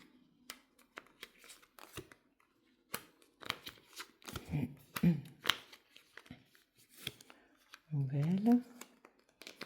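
Tarot cards are shuffled and pulled from the deck in short, soft bursts of papery riffling and sliding, close to the microphone, with a person talking intermittently between the handling sounds.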